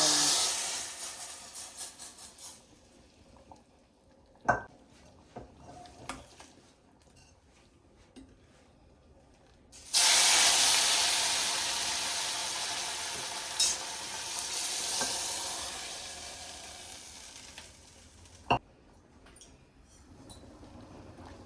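Hot tempering of asafoetida and curry leaves poured into South Indian vegetable bele sambar gives a loud burst of sizzling that rises sharply and steadily fades, with quieter stirring and clinks around it and no talking.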